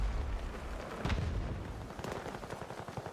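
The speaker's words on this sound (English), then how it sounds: "Probably gunshots." Distant gunfire in a Battlefield match, several muffled cracks and booms scattered over a few seconds against a rumbling battlefield background.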